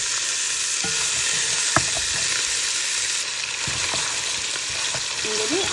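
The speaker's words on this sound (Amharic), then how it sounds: "መጀመሪያ አጥንቱን በደንብ መጥበስ አለብን" Bone-in mutton pieces sizzle hard in a hot pan while being stirred. A dense, even frying hiss carries throughout, broken by occasional knocks and scrapes of the utensil, close up and without speech.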